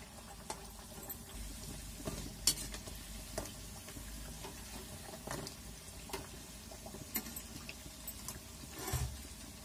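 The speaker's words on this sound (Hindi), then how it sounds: "मीडियम आंच पे ही इसको छानेंगे, क्योंकि तेज आंच में डालेंगे तो ये थोड़ा मोटा है, पक नहीं पाएगा" Kachori deep frying in hot oil over a medium flame, a steady soft sizzle and bubbling with occasional louder pops and stirring clicks, close by and with no talk.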